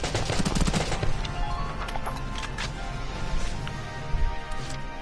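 Bursts of machine gun fire crackle in a video game battle, rapid dense volleys at close range with scattered louder shots, continuing across the whole stretch.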